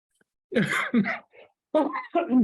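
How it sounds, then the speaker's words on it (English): Several throaty cough bursts in two pairs, close and fairly loud, separated by a short quiet gap, during a public meeting. "Excuse me, sorry, getting over a cough"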